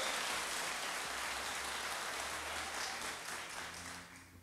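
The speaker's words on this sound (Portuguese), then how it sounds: "Muitas palmas para o comediante da noite." Applause from a live audience greeting a comedian at a Brazilian stand-up show, a broad steady wash of clapping that holds for several seconds and thins slightly toward the end.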